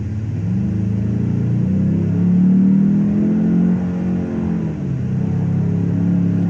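A 2022 Genesis G80 engine revs and rumbles steadily, its low growl rising and falling with a deep, exaggerated, synthetic V8-like grumble layered underneath.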